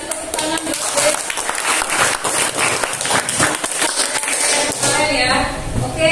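A school biology class claps together at the teacher's prompt, dense, lively applause from the students lasting several seconds before fading, with some voices mixed in.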